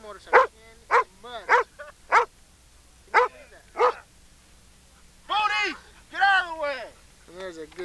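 A dog barks repeatedly outdoors, a run of sharp evenly spaced barks followed by longer yelping, whining calls, with muddy ground and a motorcycle nearby.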